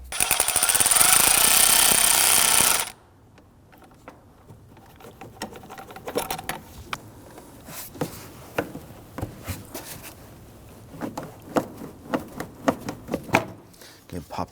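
Socket tool loosening a hose clamp on a Volvo XC60 engine, a loud continuous whirring burst for a few seconds, then scattered ratcheting clicks and metallic handling noises nearby.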